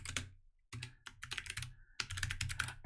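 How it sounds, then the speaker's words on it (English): Rapid computer keyboard typing in close bursts, with brief pauses between flurries of key clicks during a coding session. "when I'm typing and talking at the same time."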